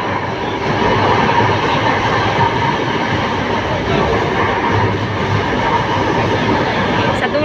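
A light rail train rumbles steadily along the rails, a continuous loud broadband roar with faint rattling, heard from inside the carriage near the end of the train.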